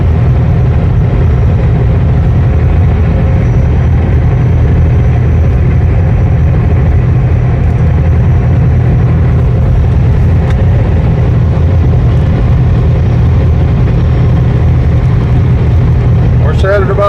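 Low, steady engine drone from inside a truck coasting down a hill, constant and loud throughout with a heavy rumbling hum and no breaks.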